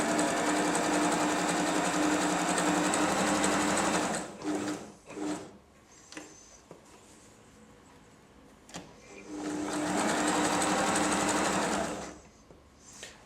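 A Janome 2522 sewing machine stitches a zigzag stitch with a loud, steady mechanical whirr in two long runs, separated by a quieter stretch of clicks and small handling noises.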